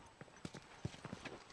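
Horse hooves clip-clopping in The Last of Us video game, a few quiet, uneven thuds at a walking pace, faint and close, with a voice speaking briefly over them.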